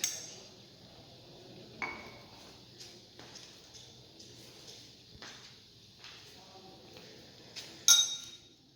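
Laboratory glassware clinking softly while oxalic acid is pipetted during an acid value test of coconut oil, with scattered light taps and one sharper clink near the end, close and quiet.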